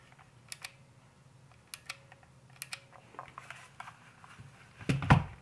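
Clicky blue switches on a Royal Kludge RK61 keyboard tapped in sparse, separate presses, faint and close, building to a louder cluster of clacks at the end.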